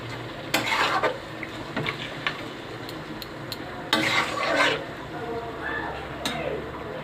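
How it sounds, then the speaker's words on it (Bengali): Mutton kosha frying in a pan as a little water is poured in, with a steady faint sizzle and a few utensil scrapes and clinks, no talking. "এবার একটু হালকা করে আমি জল দিয়ে দিই যাতে এটা সিদ্ধ হয়ে যায়।"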